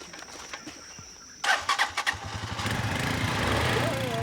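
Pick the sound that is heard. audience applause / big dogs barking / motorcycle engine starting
motorcycle engine starting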